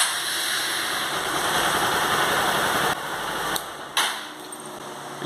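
A motorcycle engine with diesel in the crankcase runs at a steady idle, heard close and loud, then shifts and dips near the end, with no talking.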